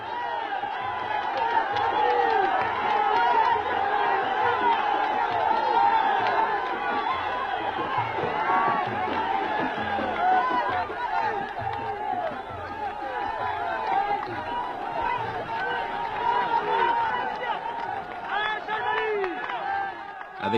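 A huge festive crowd gathered in the desert at Tarfaya, a dense, steady roar of babble, shouts and whoops with rhythmic stamping or running underneath, loud and continuous throughout.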